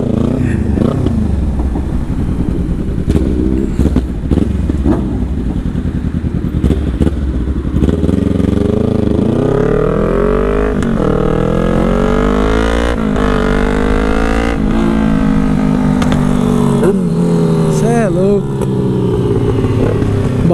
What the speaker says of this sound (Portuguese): o barulho da nossa Z1000 tá muito bonito, rapaziada